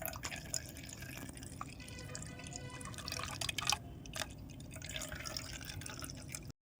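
Freshly blended orange juice dripping steadily through a strainer, a close, quiet patter of drops over low background hiss that stops abruptly at the end.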